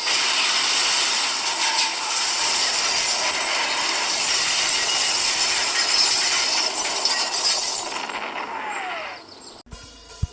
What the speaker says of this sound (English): we crashed the metro train into an island